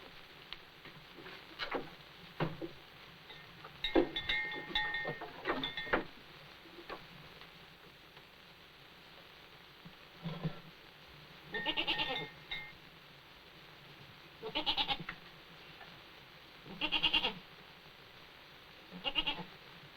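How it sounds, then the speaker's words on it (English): Goat bleating in a farm setting, several short wavering bleats spaced out over the span, fairly faint and distant with no talk. "I think you're a beautiful goat."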